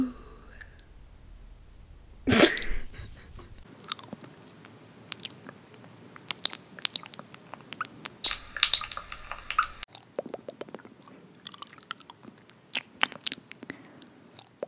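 Close-miked ASMR mouth sounds of chewing, biting and wet clicking, quiet sporadic smacks and squishes with one louder burst near the start, no clear talk over them.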